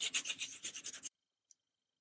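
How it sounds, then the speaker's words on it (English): An old towel scrubs a lino printing block dry in a quick burst of rhythmic, scratchy rubbing strokes for about a second, followed by near silence and one tiny tap. "So you can really give it a good scrub dry with your old bit of towel."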